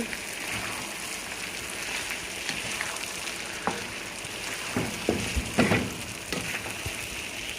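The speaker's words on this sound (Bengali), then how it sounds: "এখন এটাকে সুন্দরভাবে একটু নাড়াচাড়া দিয়ে মিশিয়ে নিতে হবে এভাবে" Beef kala bhuna stirred in a pan, with a soft frying hiss under occasional spoon scrapes and clinks, close and moderately quiet.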